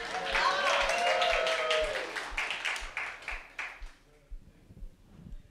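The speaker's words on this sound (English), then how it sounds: "Give him a round of applause" An audience at a mountain storytelling festival gives a volunteer a round of applause: a burst of clapping that thins into scattered claps, with a voice talking over it.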